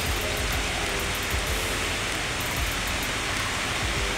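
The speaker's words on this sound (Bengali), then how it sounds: "আজকে প্রচুর বৃষ্টি হচ্ছে বন্ধুরা, এত বৃষ্টি হচ্ছে চারিদিকে" Heavy rain falls outside in a loud, unbroken wash of noise that stays even from start to finish, with no talking.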